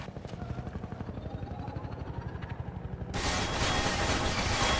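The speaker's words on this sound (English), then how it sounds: "Was that a helicopter?" Helicopter in a video game, a steady low rhythmic rotor thump throughout, joined partway by a louder broadband rush of wind or engine noise.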